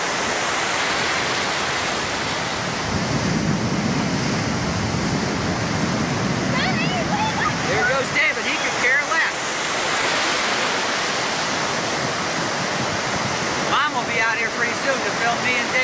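Ocean surf rolls in at Myrtle Beach as the tide comes in, a continuous loud broadband wash of breaking waves, with voices faintly mixed in.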